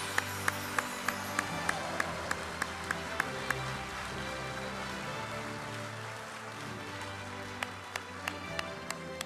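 An awards-ceremony audience gives warm, sustained applause, a steady dense clatter of many hands filling the room, with a few sharper individual claps standing out.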